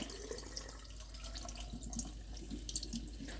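Tap water runs steadily into a sink over beef chuck being rinsed, a soft constant splashing with faint drips, close and alone.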